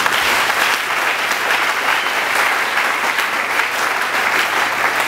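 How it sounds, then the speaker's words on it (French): Loud, dense applause from a church congregation during a live sermon in Kinshasa, continuous even clapping from a large crowd with no break. "Quelqu'un peut applaudir Jésus."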